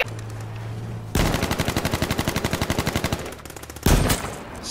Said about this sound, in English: Oh, someone's shooting. I'm getting shot at.